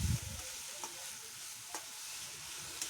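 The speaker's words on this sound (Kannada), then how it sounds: "ತುಪ್ಪ ಕಾದ ನಂತರ ಕಟ್ ಮಾಡಿ ಇಟ್ಕೊಂಡಿರೋ ಮೆಂತ್ಯ ಸೊಪ್ಪನ್ನು ಹಾಕ್ಕೊಂಡು ಚೆನ್ನಾಗಿ ಫ್ರೈ" Chopped fenugreek leaves fry in hot ghee in a pan as a soft, quiet sizzle, with a few faint stirring scrapes and light ticks spaced through it.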